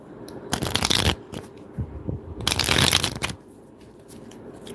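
Light Seers tarot card deck being shuffled, two long riffling bursts separated by softer handling rustles.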